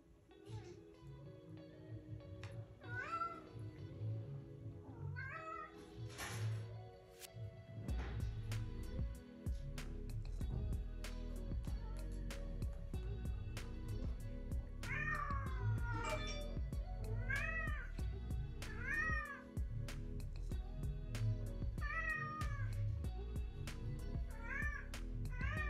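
A female cat carrying a cat toy around cries with repeated drawn-out meows, some rising into wailing yowls, over a steady background hum indoors.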